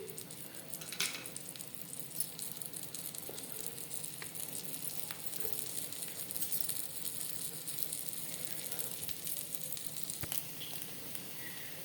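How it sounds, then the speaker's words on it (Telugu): Pesarattu dosa frying in oil on a hot pan, a steady close sizzle and crackle with faint patter, no voices. "దీని మీద కొద్దిగా ఆయిల్ కూడా వేసుకోవాలి. వేసి బాగా కాలనివ్వాలి."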